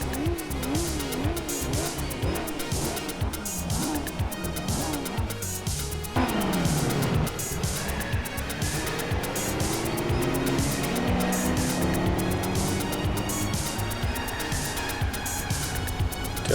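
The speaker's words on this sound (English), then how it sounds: "Doing a burnout into third gear with my cold tires, trying to get them warmed up" A car doing a burnout into third gear on cold tires in Gran Turismo 4, the racing video game: a sustained engine roar rising through the gears with squealing, spinning tires, steady and loud throughout.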